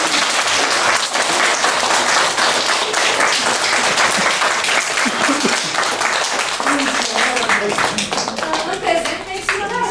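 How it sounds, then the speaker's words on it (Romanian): An audience at a school class event applauding, dense continuous clapping from many hands filling the room for the whole stretch, loud and close, with a few voices and children calling out underneath. "Vă rog aplauze!"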